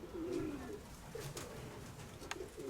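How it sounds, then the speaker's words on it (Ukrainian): Pigeons coo softly in low, rolling phrases in a pigeon loft in the evening, several calls repeating over a quiet background with faint rustling. "Тут більше голубенят вечером, більше пар, там живе 6 пар всього."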